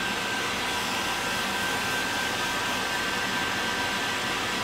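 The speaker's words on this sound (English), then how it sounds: "I'm just going to hit the hairdryer and suck some of this out" A hair dryer on its warm setting blows air steadily at close range to dry airbrushed paint on a model, a constant loud whoosh with no pauses or talk.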